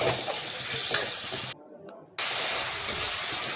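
Spice paste for a Bengali fish curry sautéing in a pan, a steady close sizzle with stirring scrapes, briefly dropping to near silence in the middle before the frying hiss resumes.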